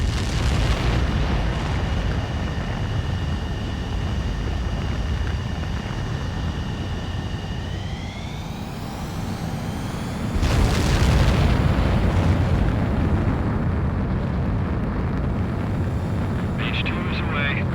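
A fighter jet in an Ace Combat flight game spools up with a rising whine, then its engines surge into a loud, sustained roar of takeoff; a radio-style voice speaks over the engine noise.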